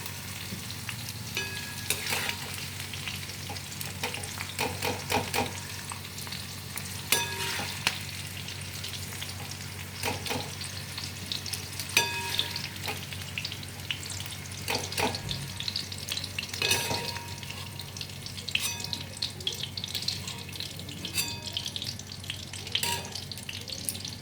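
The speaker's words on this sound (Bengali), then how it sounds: "এখানে আমার অলরেডি এইগুলো ফ্রাই হয়ে গেছে।" Onions frying in hot oil in a pan for anda do pyaza, a steady close sizzle broken by scattered louder crackles and pops, with no talking.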